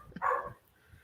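A single short dog bark, fairly close and clear, standing alone against a quiet background.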